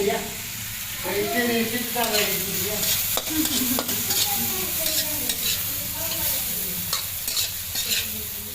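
Spices fry with a constant sizzle while a spoon stirs and scrapes around the pan in steady strokes, close up; a voice speaks over parts of it.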